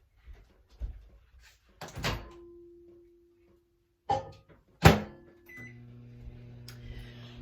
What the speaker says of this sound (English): I'm going to put it in the microwave for 2 minutes to heat it